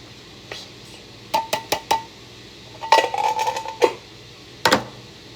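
A spoon stirs tomato sauce in a pot, giving a scattered series of bright metallic clinks and taps against the pot rim in short bursts, close and fairly quiet, with no talk.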